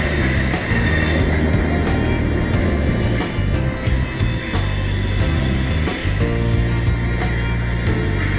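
A train speeds past on a railroad track, loud and close. Its wheels squeal and grind steadily for the whole stretch, with brief dips in the roar and no voices.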